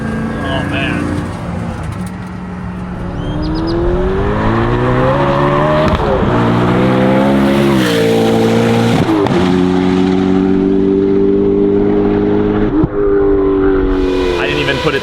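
An 1,800 horsepower NASCAR Camaro roars down a runway, its engine droning loud and close through steady gear pulls, with pitch climbing and dropping at each shift and a voice faintly present under the din.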